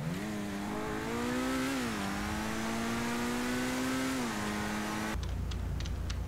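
Tuned ordinary street car engine in GTA Online revving steadily for about five seconds, a loud close droning pitch rising and dipping, then cutting to quieter rumbling with a few clicks.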